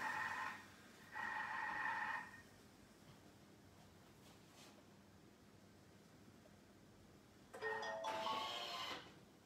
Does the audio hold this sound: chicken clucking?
no